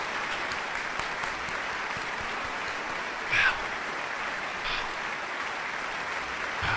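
Steady, faint applause from a distant crowd, an even wash of many hands clapping throughout, with a couple of brief louder bursts near the middle, set in a comedic gaming moment.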